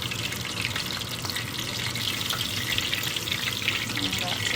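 A spring roll fries in hot oil with a dense, steady sizzle and crackle up close, continuous and fairly loud throughout.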